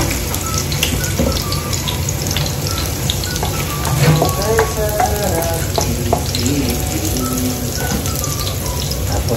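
Garlic dropped into hot cooking oil crackles and sizzles loudly and continuously at close range, with spattering pops and a few utensil knocks, a faint voice briefly underneath.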